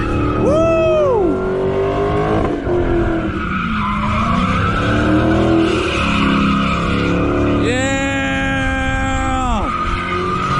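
A car doing a burnout at a drag-racing burnout event roars at high revs while its tires squeal loudly and continuously, with the engine pitch rising and falling and people shouting and cheering over it.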